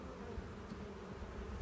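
Honey bees in a long Langstroth hive hum in a steady, mellow buzz throughout, close and continuous with no talking over it.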